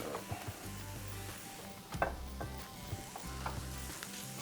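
Smoked butter and goose gizzards with salt, pepper and thyme sizzling steadily in a frying pan, a constant crackling hiss with occasional louder pops and the clink of a utensil stirring, no talking.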